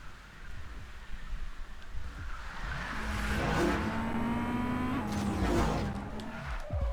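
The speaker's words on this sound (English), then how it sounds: "Yeah, his BMW M3 sounds different." Need for Speed Most Wanted's BMW M3 engine rises from a low rumble into a loud, climbing rev with a whining tone, joined by faint tire squeal, close and without voices.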